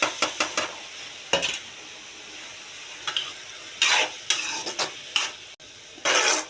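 A spoon stirs tomato and coriander in a cooking pan, giving scraping clatters against the metal in irregular bursts over a faint background sizzle, close and moderately loud, without talking.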